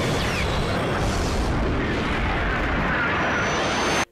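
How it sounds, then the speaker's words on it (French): A cartoon missile launch effect from an animated series, a loud, sustained roaring blast that holds steady for about four seconds before cutting off abruptly. "Notre missile va être tiré."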